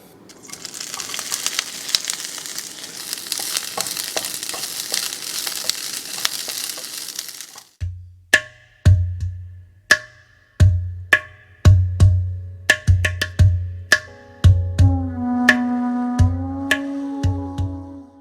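Broccoli seasoned with salt and crushed pepper sizzles in a pan. A loud, steady frying hiss is followed by a run of sharp metallic clinks and scrapes as it is stirred and mixed, with no talk over it.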